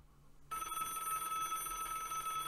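A telephone starts ringing in Broken Sword: The Shadow of the Templars, a bright electronic trill that begins abruptly and continues steadily, fairly faint and alone.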